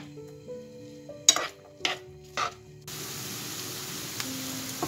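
Onions go into a pan for a Moroccan pastilla: a few sharp clanks and stirring knocks, then a steady soft sizzle as they start to fry, over a faint background hum.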